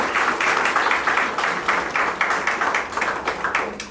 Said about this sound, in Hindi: एक बार जोरदार तालियों से इनका स्वागत कीजिए।